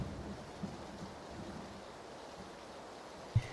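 Soft, steady rain hiss fills a quiet stretch of PUBG gameplay, faint and even, with a brief sharp knock near the end.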